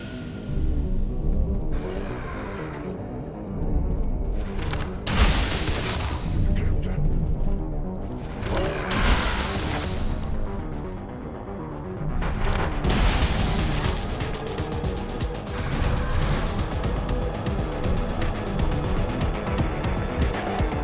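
Explosions and booming impacts in the video game Nine Sols, loud bursts recurring every few seconds over a dense, continuous game soundscape with rumbling low end.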